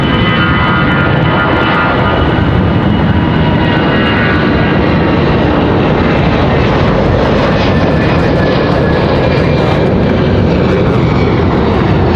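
A Frontier airliner flies a go-around at Raleigh-Durham airport. Its engines give a loud, continuous roar that fills the whole stretch, steady and close, with no voices.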